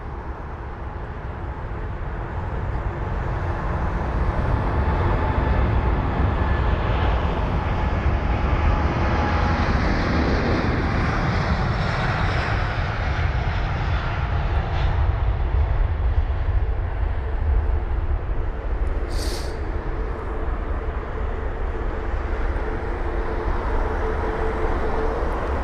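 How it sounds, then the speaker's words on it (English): A British Airways Boeing 787-9 Dreamliner takes off from London Heathrow, its engine roar rising after a quiet start and then holding as a sustained, heavy rumble for a long stretch, with no voices. "It's the 787-9 Dreamliner this time"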